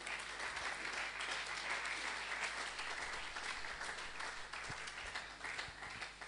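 Church congregation at a French-language service applauding loudly, a dense continuous wash of clapping that holds steady throughout before tapering slightly at the end.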